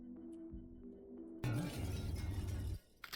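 Glass cracking in a video game, a sudden bright shattering burst that cuts in over a low hum and rings out for about a second before fading into quiet.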